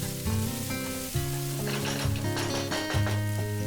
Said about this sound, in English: in a hot pan add oil, add 2 onions chopped and fry this until the onion is nice and soft